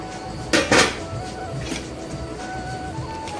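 Groundnuts and raisins tumble into a pan for a Janmashtami offering, giving two quick rattling clatters of dry pieces against metal early on, then a softer clink, with low background hum after.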